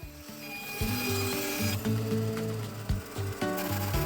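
A bandsaw cuts ash, sapele and walnut boards to size, giving a close rasping, grinding buzz with repeated cutting passes and brief pauses between them.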